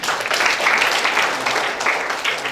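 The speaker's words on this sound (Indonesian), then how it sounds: "Tepuk tangan dulu." A crowd claps together in a dense burst of applause that fills the space, loud and steady for a couple of seconds.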